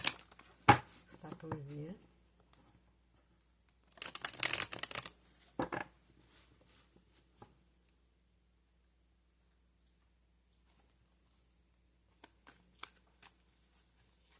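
Tarot cards are shuffled in a few short bursts of riffling and slapping near the start and middle, with brief card taps later, mostly quiet in between and with a voice speaking briefly.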